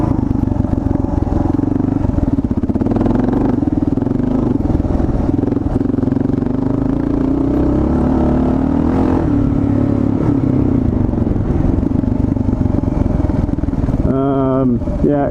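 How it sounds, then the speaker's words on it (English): An Eagle Mike motorcycle cruising at about 55 mph on a sandy road gives a loud, continuous engine drone mixed with heavy wind rush, holding steady before it tails off near the end. "that was about 55 miles an hour, guys, and this bike handles totally different."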